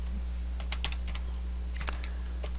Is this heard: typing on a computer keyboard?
yes